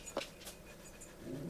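Small dog panting with a brief whimper, close by and fairly quiet, in an indoor room.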